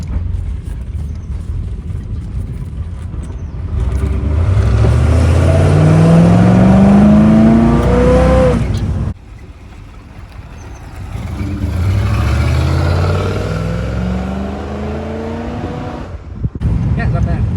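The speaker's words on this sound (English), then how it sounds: "It actually sounds like a V8 now." A 1975 Chevrolet Monza with a 350 V8 drives under two strong accelerations, its deep engine revving up in rising pulls that drop off sharply between them, with people talking inside the car.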